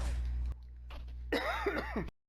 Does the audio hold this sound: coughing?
yes